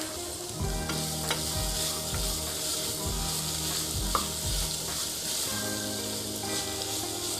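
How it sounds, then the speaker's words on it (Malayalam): Sliced onions sautéing in a pan for Kuttanad-style duck mappas, a continuous close sizzle with repeated scraping stir strokes in an irregular rhythm, no voices. "അത് നല്ലവണ്ണം ഒന്ന് വഴറ്റിയെടുക്കണം."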